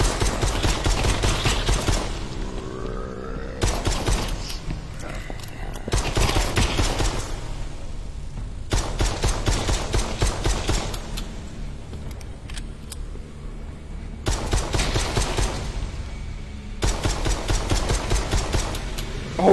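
Gunfire from shooting zombies in the video game Propagation comes in loud bursts of rapid shots, separated by brief quieter gaps, repeating about five times.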